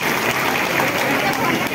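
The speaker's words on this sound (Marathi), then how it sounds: "आपण सर्वांनी या ठिकाणी टाळ्या वाजवल्या" Audience applause at a large Buddhist Dhamma conference, a dense continuous wash of many hands clapping at close range, steady and loud throughout.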